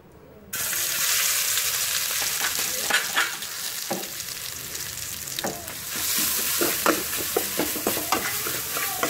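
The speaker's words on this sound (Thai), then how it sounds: "เดี๋ยวเราจะเอาพริกเฮาโขกลงไปคั่วเลยนะครับ" Pounded chilli paste hitting hot oil and being stir-fried in a pan: a sudden strong sizzle followed by steady hissing, with repeated scraping stirs of a utensil, loud and close.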